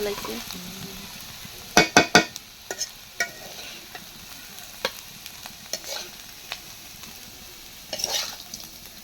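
Bitter gourd fries in a pan with a soft, continuous sizzle. A few sharp metallic scrapes and taps of a spatula on the pan stand out near the start, and lighter ones follow.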